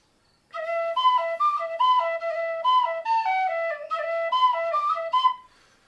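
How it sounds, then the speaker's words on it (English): A tin whistle plays the Irish session tune Drowsy Maggie plainly, without ornamentation: a clear, bright solo melody of quick repeated phrases lasting about five seconds, then stopping. "Or you can hear how the whistle player might do it."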